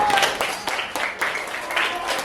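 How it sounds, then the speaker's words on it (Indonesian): Classmates in a school classroom clap for the group that presented on the desert ecosystem, a short, moderately loud burst of scattered hands with voices underneath. "beri tepuk tangan untuk kelompok gurun"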